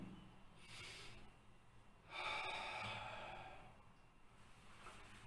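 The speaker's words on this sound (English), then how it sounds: "Take a deep breath through the nostril." Slow, deep breaths drawn in through the nostrils during a post-COVID breathing exercise, a few soft, airy inhalations and exhalations close up in a quiet room with no talking.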